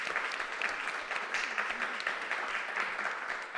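An audience applauds to welcome a speaker onto the stage, a steady wash of many hands clapping that holds at an even level for the few seconds heard.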